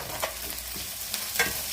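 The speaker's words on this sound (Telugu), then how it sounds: "తర్వాత రాజీ అల్లం వెల్లుల్లి పేస్ట్ వేసేసుకుందాం." Ginger garlic paste frying in a hot pan as it is stirred, with a steady close sizzle and a few soft spoon scrapes over a short stretch, no voices.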